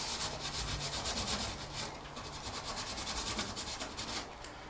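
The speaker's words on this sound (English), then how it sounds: "Go over them with my stainless steel board." A stainless steel scrubber rubs rhythmically back and forth over oven surfaces while cleaning, producing close, steady scratchy strokes at a soft level with no speech.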